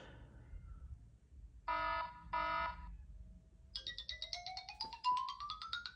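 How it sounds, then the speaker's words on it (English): A quiet electronic iPhone alarm tone on iPhone OS 2.0 plays: two short beeping bursts, then a rising melodic chime pattern over low background rumble, with no talking. "Alarm, with your pretty standard alarm tones."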